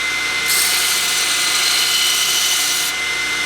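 A 2x72 belt grinder grinding a 10-inch contact wheel held on a bolt: a loud, steady high whine that starts after a brief idle and runs about two and a half seconds before easing off.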